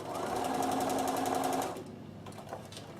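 A Bernina L460 overlocker hums steadily as it sews along a towel, a fast even mechanical whir that stops after about a second and a half, followed by a few faint handling clicks.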